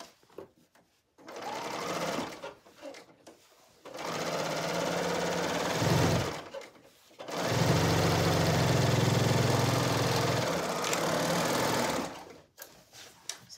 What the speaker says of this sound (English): Sometimes I go really fast with the serger